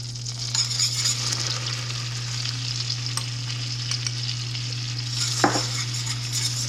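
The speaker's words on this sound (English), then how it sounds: "So we're just going to whisk it together." A butter and flour roux with salt and garlic powder is whisked in a pan for homemade mac and cheese, giving a steady soft sizzle with faint scraping strokes and one brief clatter near the end.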